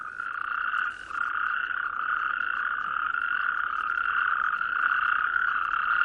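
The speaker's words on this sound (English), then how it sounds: "These are natterjacks." Natterjack toads calling at a waterhole in spring, a continuous rolling chorus of loud, rattling trills layered over each other, steady and repetitive throughout.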